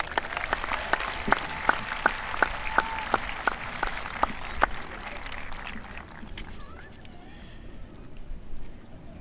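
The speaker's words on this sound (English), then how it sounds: "Let's give them a round of applause." A commencement audience at a high school graduation ceremony breaks into applause, steady clapping under sharp individual claps that gradually thins and fades out over several seconds.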